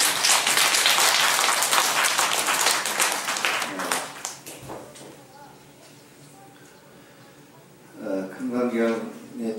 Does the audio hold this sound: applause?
yes